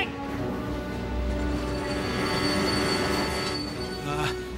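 Train wheels squeal on the track in a cartoon scene, a steady, loud, high metallic screech that runs the whole time with a rumbling rail noise beneath.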